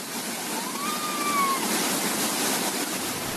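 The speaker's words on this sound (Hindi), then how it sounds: "नासिक में तो गोदावरी नदी उफान पर है" Floodwater of the swollen Godavari river in Nashik rushes in a steady, broadband roar, loud and continuous like a waterfall or surf, with a faint thin tone briefly gliding over it.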